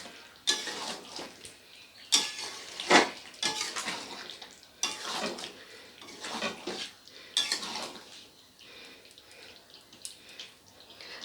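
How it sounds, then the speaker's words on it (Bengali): A spoon stirs chicken masala with garam masala in a pan, scraping and clattering in irregular loud bursts against a soft sizzle, close by with no talking. "তো গরম মশলাটা দিয়ে খুব ভালো করে নেড়ে নেব।"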